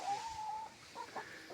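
Hens cluck softly while walking around their new dry, concrete-floored coop, with a sustained call at the start and a few short clucks after it, heard at moderate distance.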